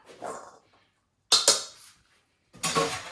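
Food is thrown into a cooking pot, making two short clattering, thudding impacts separated by a brief silence, close and fairly loud, after a faint muffled sound at the start.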